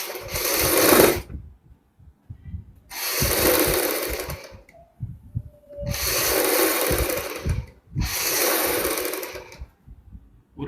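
A sewing machine sews all around a kurti neckline through buckram, in four long steady bursts of whirring motor noise separated by brief silent gaps.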